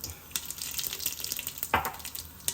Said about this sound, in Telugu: ఇందులో ఇప్పుడు నేను షాజీరా వేస్తున్నా ఫస్ట్